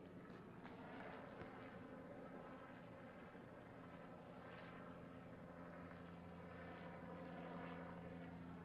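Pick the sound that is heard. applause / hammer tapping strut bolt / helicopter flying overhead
helicopter flying overhead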